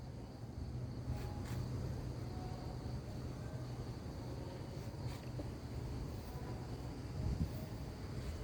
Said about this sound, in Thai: ลมพัดกิบกลิวนะครับท่านผู้ชม